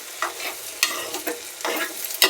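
A spoon scrapes and stirs through tomatoes in a sizzling frying pan, several quick strokes in a row close by.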